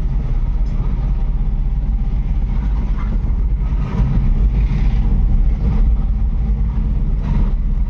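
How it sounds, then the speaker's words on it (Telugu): Vehicles idle in a traffic jam on a road while a porter truck waits among them, producing a loud, steady low engine rumble that is continuous and close, with faint irregular noises over it. "అరే ఇక్కడ మళ్ళీ ట్రాఫిక్ జామ్ ఉన్నట్టుంది కదా"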